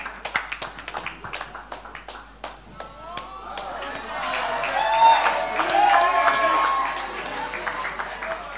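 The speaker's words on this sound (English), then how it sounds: "A round of applause, A.B." Audience applause at a fashion talk event, many hands clapping that swells into a dense, sustained burst with cheering voices mixed in, following an emcee's speech at the start.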